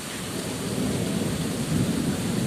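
Steady rain falls after a Kalbaishakhi storm, a dense close hiss with low rolling thunder rumbling underneath throughout.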